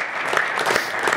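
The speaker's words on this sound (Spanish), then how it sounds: "Damos un aplauso al Señor por nuestra semilla" Steady applause from a church congregation, dense clapping throughout with no pauses, fairly close and moderately loud.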